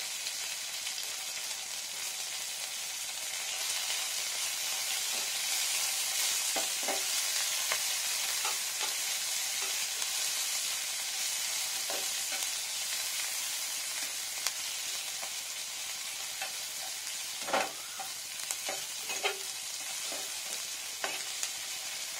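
Ginger, garlic and green chili fry in oil with a steady, hissing sizzle, punctuated by a few sharp pops and spatula scrapes as they are stirred; the sizzle is close and continuous, with no one speaking.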